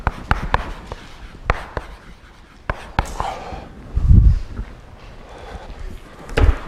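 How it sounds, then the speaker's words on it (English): Marker or chalk taps and strokes on a lecture-hall board, sharp clicks spaced irregularly with soft scratching between, close and fairly loud, with a low thump partway through. "I'm just going to write evaluate."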